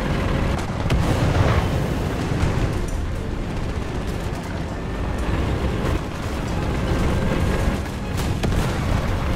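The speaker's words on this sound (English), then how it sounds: "Artillery." Continuous rumbling barrage of artillery explosions in War Thunder ground battles with Swedish forces, loud dense booms overlapping into a sustained roar with no talk.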